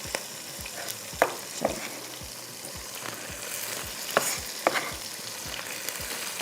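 Chopped tomatoes, about 350 grams, fry in a pan for Lahori mutton methi. A soft, steady sizzle carries under repeated stirring scrapes and light taps at an even rhythm, close and fairly quiet, with no voices.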